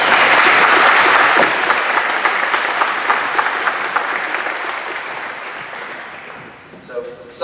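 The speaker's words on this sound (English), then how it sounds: "I would like to send a volley of applause towards all of you wonderful people" Graduates and families at a 2017 high school graduation ceremony break into loud, dense applause that gradually thins and fades out, with a faint voice near the end.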